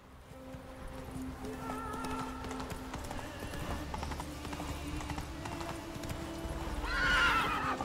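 Hooves of Roach, the horse in The Witcher 3, clip-clop in a steady galloping rhythm over game music, with a whinny rising near the end.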